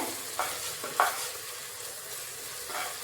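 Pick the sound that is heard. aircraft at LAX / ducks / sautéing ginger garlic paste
sautéing ginger garlic paste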